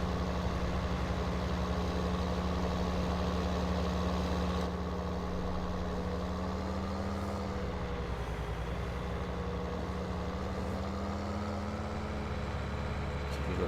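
A heavy diesel tractor engine idles and hums steadily at a low pitch while reversing a trailer in a farming video game, with a slight change in tone midway as it works.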